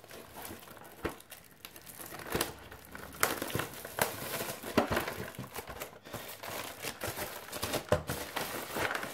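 The foil wrapper of a Pokémon card booster pack crinkles and crackles in irregular bursts as it is opened close up, with a few sharper tearing snaps.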